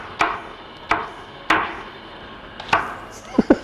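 Knife chopping vegetables on a cutting board in a home kitchen, five or six sharp separate knocks at uneven intervals, close and fairly quiet with no talk over them.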